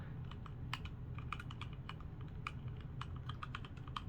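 Rapid typing on a mechanical gaming keyboard with brown or red switches, a close, irregular stream of light key clicks and taps over a low steady hum, with no talking.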